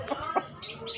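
A chicken gives a few short, close clucks in quick succession, followed by faint higher chirping in the background.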